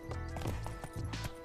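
Geralt's horse Roach trotting in The Witcher 3 video game, a close, even clip-clop of hooves in a steady rhythm with no talk.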